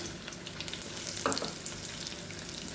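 Peanuts, chana dal and urad dal fry in hot oil with a steady, close sizzle and crackle, plus a brief stirring scrape partway through.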